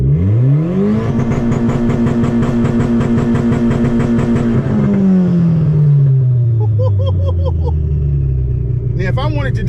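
A 1991 Honda Civic EF sedan with a manual gearbox revs hard during a first burnout attempt, the engine climbing and holding a loud steady drone before the pitch falls away. Close and loud throughout, with brief chirps near the end.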